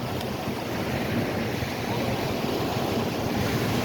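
Surf washing onto firm packed sand at Fort Myers Beach, Florida, a steady broadband roar of breaking waves mixed with wind buffeting the microphone, continuous and fairly loud with no voices.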